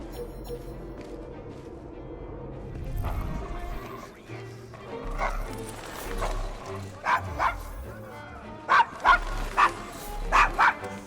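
A dog in Assassin's Creed Syndicate, set in Victorian London's Devil's Acre, barks in several sharp bursts near the end after a stretch of low ambient game sound, wary of strangers.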